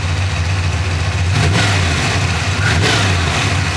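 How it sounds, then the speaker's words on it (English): Ford Mustang Foxbody engine revved up from idle, a loud close steady growl with two quick throttle blips lifting the pitch, showing clean throttle response without stumbling. "So I do want to show you the throttle response on the car."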